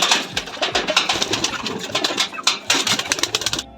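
Rajshahi Giribaj pigeons kept at a home loft cooing close by, a busy overlapping run of soft throaty coos with light fluttering and shuffling.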